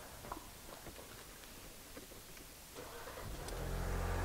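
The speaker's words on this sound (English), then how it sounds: "I'm going to go ahead and start the car right now" A car with a P1450 EVAP fault code is started, a low engine rumble swelling and growing louder toward the end after a quiet, faintly clattering lead-in.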